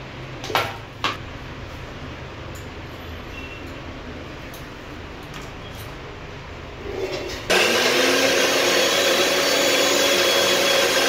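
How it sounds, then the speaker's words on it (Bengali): A kitchen mixer grinder whirs for several seconds, grinding onion, garlic, ginger and cashews. A few clinks come first, then it cuts off, and a loud steady wash of frying or running noise follows. "এগুলোকে ধরে মিক্সিতে গ্রাইন্ড করে নিতে হবে।"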